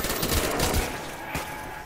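A Type 100 submachine gun fires a quick burst of rapid shots in a Call of Duty Black Ops zombies match, fairly faint and brief against the game's background sound.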